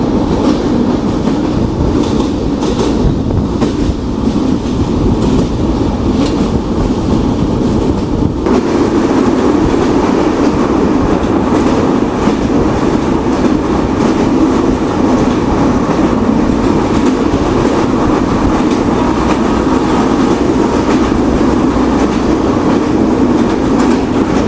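A Madhumati Express train with LHB coaches runs through a railway station, a loud continuous rumble of wheels and carriages with rhythmic clatter, heard close up from on board for the whole stretch.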